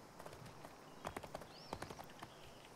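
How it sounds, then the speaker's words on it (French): Horse hooves clip-clopping in the online game Hunter's Arena: Legends, a quiet run of soft, evenly spaced thuds at a moderate pace, faint and close, with no talk over them. "moi je suis sur mon cheval en fait"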